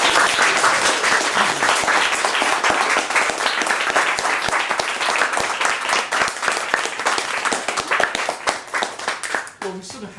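An audience gives Lizzy Hobbs another round of applause, dense and loud clapping filling the room nearly throughout before tapering off at the end.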